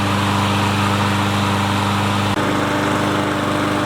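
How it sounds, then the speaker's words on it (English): Troy-Bilt push lawn mower engine running steadily alone, a loud continuous drone with a strong low hum, a brief dip and slight change in pitch partway through. "See, you got a good running mower now, and I'll let this run for an hour or so."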